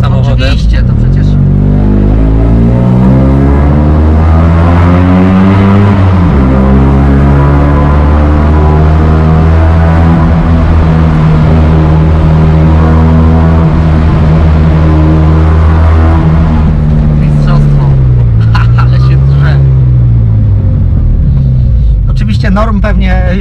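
A 1969 Fiat 500L Lusso with a 50 hp engine rumbles loudly up close through its exhaust, its pitch rising and falling with the revs, before voices come in at the end.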